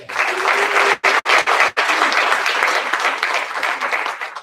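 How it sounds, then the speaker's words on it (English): A room full of people applauding at a school awards ceremony, steady dense clapping with a couple of brief breaks near the start, then continuing evenly until the end. "We will still honor their work with a round of applause."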